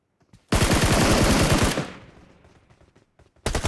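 A burst of rapid automatic gunfire in PUBG Mobile rattles loudly for over a second, then its echo fades, and another burst starts at the end.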